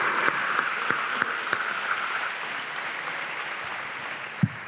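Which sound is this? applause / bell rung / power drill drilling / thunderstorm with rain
applause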